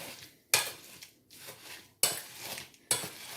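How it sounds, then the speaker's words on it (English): A spoon scrapes and clacks against a pan while blackberries are stirred with sugar, three sharp metallic strikes separated by softer scraping and mixing sounds, close and clear. "I'm just going to give that a quick mix so that we know all those berries have got a coating of that sugar"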